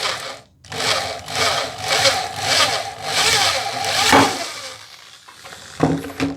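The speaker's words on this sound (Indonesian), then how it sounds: "kita bor di tengahnya ya." An electric drill bores into a screen printing board, giving a steady, close, grinding whir that dips briefly and then surges again, with no talking.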